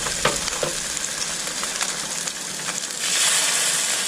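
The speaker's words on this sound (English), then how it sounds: "You want to hear that sizzle." Thresher shark burgers sizzle loudly and close in a hot skillet. The frying hiss is steady with crackles and pops, and it swells louder toward the end.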